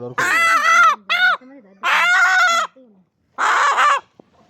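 Large rooster giving loud, close, harsh clucking and squawking calls in four bursts separated by short pauses, with a faint tap at the end.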